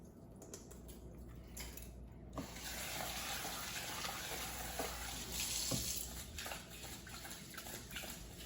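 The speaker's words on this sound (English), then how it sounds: "Pour out the water." Water is poured off rice being washed in a kitchen, a steady splashing gush into a sink that swells in the middle and runs on continuously, close by with no talking.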